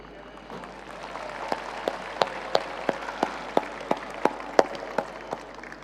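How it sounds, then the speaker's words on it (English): Light applause at a large corporate event, a soft bed of scattered clapping with one or two nearby hands striking sharp, evenly spaced claps that stand out above the rest. "give yourself a warm round of applause"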